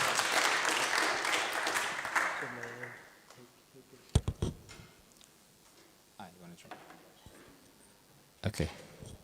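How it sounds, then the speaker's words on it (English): Audience applause at a keynote session of a 2024 academic conference, a dense burst of clapping that fades out over about three seconds, followed by scattered knocks and clicks with brief speech in the quieter stretch. "So please give him applause"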